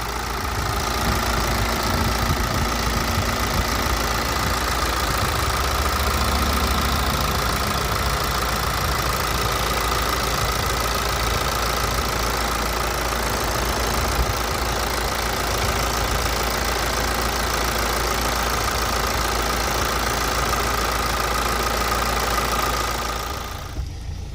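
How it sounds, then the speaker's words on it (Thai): A BMW 520d G30 diesel engine idles with the hood open, a steady low, even rumble and light mechanical ticking, close by and constant, with no voices. "ไหนๆก็เปิดฝากระโปรงแล้วครับฟังเสียงเครื่องยนต์เก็บบันทึกไว้ครับ"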